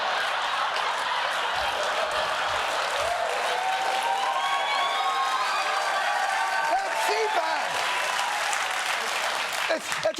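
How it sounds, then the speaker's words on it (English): Audience at a CPAC convention cheering and applauding, a loud sustained roar of clapping and whoops filling the room with no pause. "they cheered for Trump's impeachment, not realizing that you were calling for the counter"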